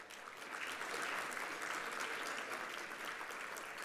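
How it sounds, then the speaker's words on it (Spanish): Quiet, distant audience applause at a panel forum, an even rush of many hands clapping that swells slightly and holds steady for a few seconds. "Macarena Pujredón, a quien también saludamos con un aplauso."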